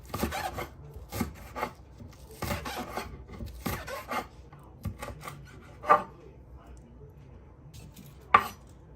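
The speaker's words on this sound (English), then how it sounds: "So it's time to slice up this vegetable that I'm going to be using for this gizzard. So this is the spring onions. Just give it a slice." Knife slicing through spring onions on a cutting board, several crisp separate chops at an uneven pace, close and moderately loud, with faint background noise between cuts.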